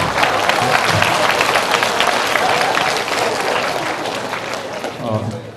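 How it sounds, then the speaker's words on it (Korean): Audience applause at a lecture on French culture in Korea: a full, dense burst of clapping from many people, loud at first and gradually thinning out toward the end. "이렇게 박수를 많이 받아보는 것도 처음인데"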